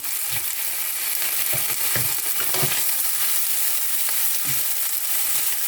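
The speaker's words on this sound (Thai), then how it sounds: "เอ็ดผัดเลยนะคะ" Dried fish maw, already boiled, stir-fried with garlic in a pan gives a steady loud sizzle, with intermittent scraping of the utensil as the pieces are tossed.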